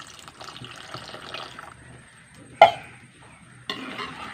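Water poured into a simmering tamarind curry, a soft splashing trickle with a sharp clink partway through and a fresh gush of pouring near the end.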